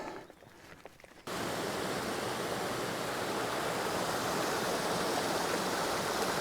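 A mountain stream on the way up to Pointe de Chalune rushes steadily and loud after a quieter first second, a broad continuous roar of flowing water with no voices.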